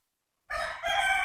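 Chickens and a rooster crowing, a loud, fairly close burst that starts abruptly after a short silence and carries on steadily to the end.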